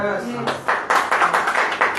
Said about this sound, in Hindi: तालियां ले बजेगी कि नहीं?